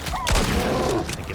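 A gunshot headshot in the video game Icarus: a sharp report near the start and a second shorter crack about a second later, over a busy mix of in-game sounds.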